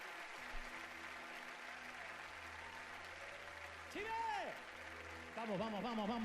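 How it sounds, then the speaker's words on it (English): A large church congregation applauds during a worship service, a faint, distant wash of clapping that continues steadily, with sung or drawn-out vocal sounds rising over it near the end. "Give a grand applause to the Lord of Lords."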